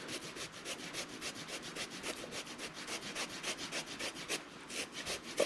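Fresh ginger root rubbed by hand over a kitchen grater, a steady run of rapid, even scraping strokes that stays close and fairly loud, with no talking.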